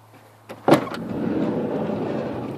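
Interior handle of a Ford Windstar door pulled, giving a couple of small clicks and then a sharp latch clunk up close, followed by a soft hollow rush as the door swings open.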